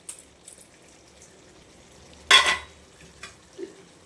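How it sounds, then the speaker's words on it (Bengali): Gobindobhog rice sautéed with spices, tomato and green chilli paste in a pan: mostly quiet, with faint scrapes, one brief loud rattling stir near the middle, and a few soft knocks afterward. "এই যে গোবিন্দভোগ চাল দিয়ে এবার ভালো করে সাঁতলে নিচ্ছি, মানে মশলার সঙ্গে সাঁতলে নিয়ে একদম মশলা ঢুকে যাবে।"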